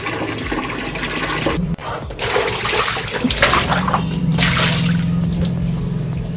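Water splashes and pours steadily at close range while someone washes the base of a tulsi plant. The rush of liquid runs continuously with a brief break, then a fuller gush near the end.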